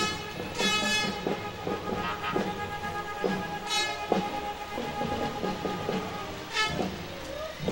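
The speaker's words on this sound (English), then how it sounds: "They love honking those horns" Horns honked by vehicles in a 4th of July parade, several loud, sustained blasts repeating every second or two over a busy street crowd background, with no talk.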